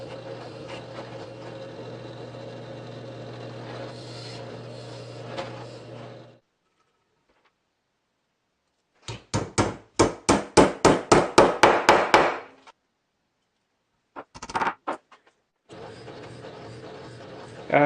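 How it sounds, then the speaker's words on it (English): A hand drill bores locating holes, giving a close, rhythmic run of about a dozen sharp strokes, then a few brief bursts, set between a steady background hum and a stretch of silence. "I'm only using my hand drill to transfer the location of the holes"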